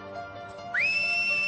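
A single clear whistled note rises quickly, then holds steady and bright for about a second against quiet background noise.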